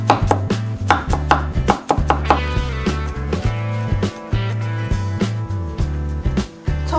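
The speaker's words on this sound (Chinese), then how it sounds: "小米椒切成圈，稍微切小一点，蒜粒拍碎切成末" A knife chops rapidly on a cutting board, slicing small chili peppers into rings and mincing smashed garlic cloves, with close, loud, rhythmic knocks in quick bursts and brief pauses between them.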